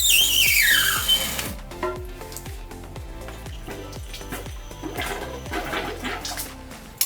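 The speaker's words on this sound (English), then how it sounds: "Suck the water out of this one now" A wet vacuum sucks water out of a toilet bowl during a toilet replacement, giving a loud whining start followed by repeated gurgling slurps and sputters in a rough rhythm.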